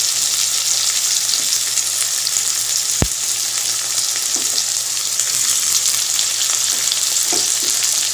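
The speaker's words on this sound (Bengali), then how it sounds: "তেলেই দিয়ে দেবো পেঁয়াজ।" Onions go into hot oil left from frying potatoes, hissing in a steady close sizzle that runs throughout, with one sharp click and a few soft stirring scrapes.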